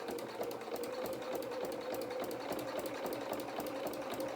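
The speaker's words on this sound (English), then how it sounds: "Then I'll follow with the edge of my presser foot down." Sewing machine stitching a straight seam on a small winter skating coat, an even close whirring hum with rapid regular needle pulses throughout and no speech.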